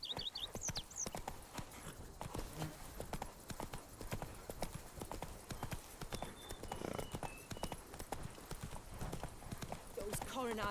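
Roach, Geralt's horse in the video game Witcher 3, trots with brisk, even clip-clop hoofbeats that run through the whole stretch, with occasional voices and faint game ambience.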